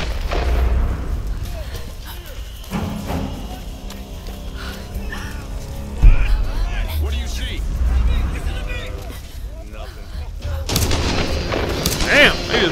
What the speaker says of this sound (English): Letting rounds off over here.